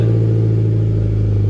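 A Mazda MX-5 NC with a single exit muffler exhaust idles and revs with a steady, loud low rumble that holds evenly through the short stretch, close by and alone.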